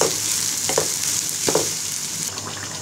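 Chopped onions fry in mustard oil until browned, a dense close sizzle broken by a few quick stirring scrapes.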